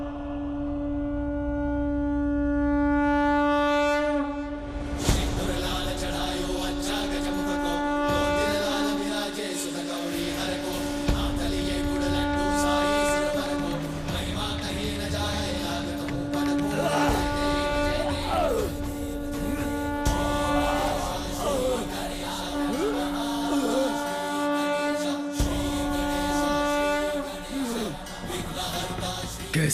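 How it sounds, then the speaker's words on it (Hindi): A conch shell, the sacred conch of Lord Narayana, sounds in a long sustained drone for nearly thirty seconds, loud and steady over a swelling dramatic music bed, with no speech. "नारायण के शंख की ध्वनि है"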